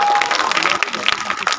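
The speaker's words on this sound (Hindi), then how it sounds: "अगर प्रस्तुति पसंद आई हो तो जोरदार तालियां बजा" An audience at a Republic Day gathering with a speech by a maulana breaks into applause, a burst of clapping that starts strong and thins out over a second and a half.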